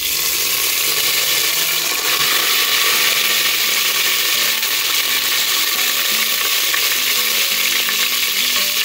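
Cumin seeds and curry leaves sizzle in hot oil in a frying pan, giving a continuous crackling hiss with faint stirring scrapes and no talk.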